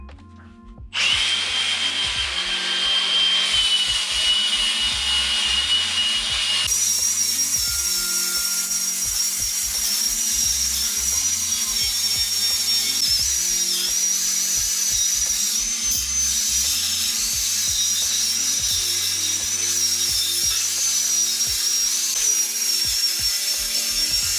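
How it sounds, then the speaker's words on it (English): A power tool with a wire wheel grinds over a welded metal toolbox, a loud, continuous high whine that shifts pitch slightly as it works the surface, alone for the whole stretch. "I'm gonna run a wire wheel over this whole thing real quick"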